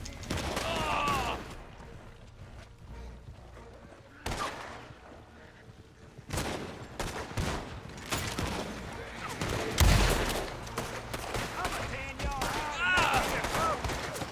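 Gunfire in a Red Dead Online shootout, scattered sharp shots and rapid volleys cracking at irregular intervals, some close and loud, others distant, over an outdoor game backdrop.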